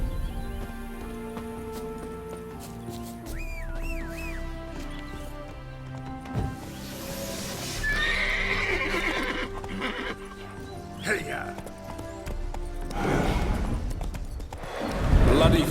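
A horse in The Witcher 3 whinnies and neighs repeatedly amid clip-clopping hooves and a thud or two, with game music underneath, a long neigh standing out near the end.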